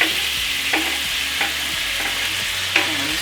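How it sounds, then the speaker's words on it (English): Onions sauté in hot olive oil with lime and lemon, giving a loud, even sizzle with a few sharp utensil scrapes and clicks at intervals and no one talking. "we're gonna saute that until the onions break down just a little bit"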